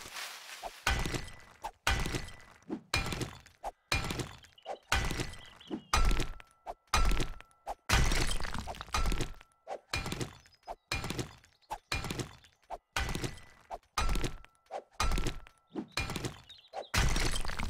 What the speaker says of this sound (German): So, ich wollte die Cobblestones hier mal in die Mauer schmeißen.